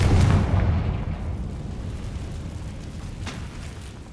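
A Confringo blasting spell explodes in Hogwarts Legacy, a loud booming blast at the very start that rolls into a low rumble and slowly fades over several seconds.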